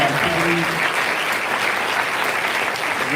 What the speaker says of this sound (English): Please join me in a round of applause for their dedication to seniors all year long